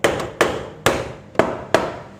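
A hammer handle knocking against the engine cover of a Honda Wave Z motorcycle to work it loose: five loud, close, hard knocks at uneven intervals, each ringing briefly, with no talking.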